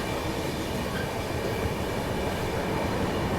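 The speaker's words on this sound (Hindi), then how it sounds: "और अब जाके ट्रेन पहुंच रही है बल्हारशाह रेलवे स्टेशन।" A Grand Trunk Express passenger train runs steadily toward Ballarshah railway station, a loud continuous rumble of wheels and carriages on rails with faint clatter throughout and no voices.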